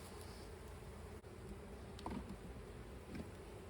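Honeybees buzz around a hive frame during a split made to prevent swarming, giving a soft, steady, continuous drone with a few brief closer passes.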